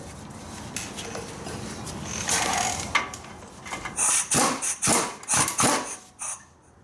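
Hammer tapping on a Ford truck or van ball joint during front suspension work, a series of sharp metallic knocks growing into several loud, fairly evenly spaced strikes, close up and without talking.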